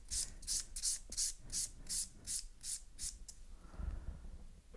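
A nail file works acrylic-gel hybrid nails in about ten evenly spaced, long downward strokes, each a crisp close rasp, then the filing stops and a soft low rustle follows.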